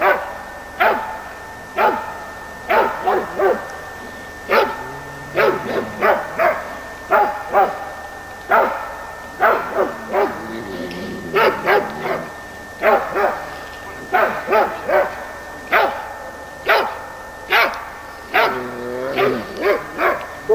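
Laika hunting dogs bark repeatedly in rhythmic, loud bursts at bear and boar field trials, the barks interspersed with yips and whimpers and continuing steadily throughout.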